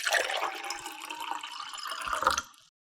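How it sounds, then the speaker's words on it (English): Water pours into a teacup as a sound effect: a continuous close splashing trickle lasting under three seconds before stopping abruptly. "the sound effect of the water pouring into the teacup"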